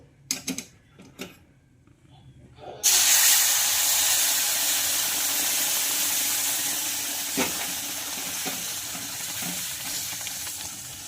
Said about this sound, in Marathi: थोडं थोडं करून आपल्याला रव्यामध्ये उकळतं पाणी घालायचं आहे